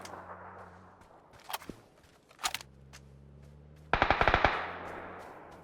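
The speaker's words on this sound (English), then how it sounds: "I heard a few gunshots and then saw a car run over someone in the kill feed." Gunfire in a video game, with a few scattered single shots followed by a rapid burst of automatic fire, sharp and fairly close over a low steady hum.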